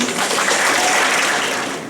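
An audience at a St. Peter Claver School graduation applauds to welcome a guest speaker, steady dense clapping from many hands, close and loud throughout, with no speech.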